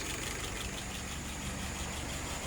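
An Oliver tractor engine idling steadily at about 675 rpm with a smooth, even rumble and faint mechanical ticking, close by and constant, no talking.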